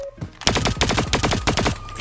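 A KSP-45 submachine gun fires in a video game, cutting loud and close in a rapid string of about a dozen sharp shots over a second and a half, then stopping.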